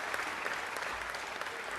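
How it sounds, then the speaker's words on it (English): An audience claps in city council chambers during an Italian heritage celebration, giving steady, full applause that stays even and continuous from start to finish. "Give yourselves a round of applause for being here."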